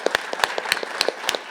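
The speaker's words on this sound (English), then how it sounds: "a massive round of applause is due for the 6 speakers we had again on this stage" A few hands clapping for speakers on stage after a debate event, sparse, distinct claps in a loose rhythm, close and fairly clear, with no talk.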